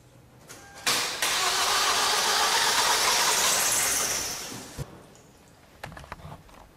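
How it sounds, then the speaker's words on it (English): A Kia Cerato or Chrysler 300 with a combustion leak into the coolant cranks and fires, a loud broadband rush of the engine catching and running for a few seconds before settling back, followed by scattered small knocks. "I'll go and turn the key."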